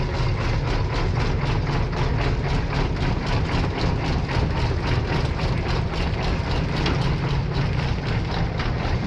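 A diesel engine idles steadily and loudly nearby, a continuous low rumble with a fast regular pulsing throb running through the whole stretch, no voices over it.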